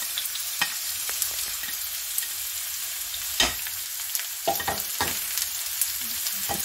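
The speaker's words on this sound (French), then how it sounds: "l'huile est chaude. Je vais mettre mes oignons et mes échalotes." Onions and shallots fry in hot oil with a soft, steady hiss, broken by a few sharp crackles and scrapes, fairly quiet and close with no speech.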